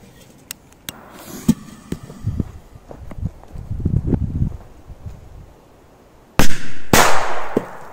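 Outdoor rustling and footsteps, then two loud firecracker blasts in quick succession near the end, each with a brief ringing tail.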